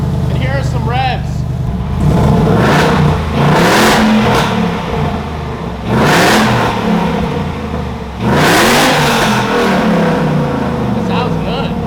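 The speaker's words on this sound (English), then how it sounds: "And here are some revs." Whipple-supercharged Ford Mustang GT with a Valvetronic Designs active exhaust revved four times, each sharp rise and fall standing out over a rumbling idle, with people talking in between.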